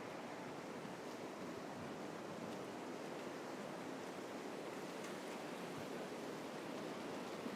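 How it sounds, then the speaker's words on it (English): Steady wind blowing along Middle Road, a city street in Singapore, buffeting the microphone with a constant, even broadband rush that holds at the same level throughout, with no voices. "It's quite windy."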